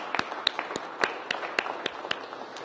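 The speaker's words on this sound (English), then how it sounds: "give our firefighters a big round of applause" An audience claps in scattered, sparse applause for firefighters, heard as a string of sharp individual claps at a moderate distance, fairly quiet and with no talking.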